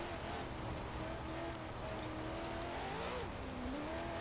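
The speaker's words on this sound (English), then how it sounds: "Is there a different engine sound?" Car engine in the video game Forza Horizon 4 drones steadily throughout, its pitch rising and falling with revs alongside tire noise, loud and continuous with no talk.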